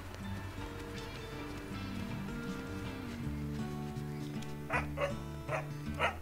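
A dog in the video game Bloomtown gives about four sharp barks in quick succession near the end, over steady game background music.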